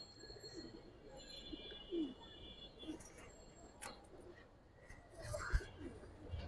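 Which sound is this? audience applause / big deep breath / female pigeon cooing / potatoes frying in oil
female pigeon cooing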